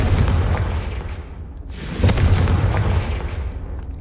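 A Confringo fire-blast spell in Hogwarts Legacy goes off with a loud booming burst and a sharp crack midway, followed by rumbling debris, standing alone with no talk.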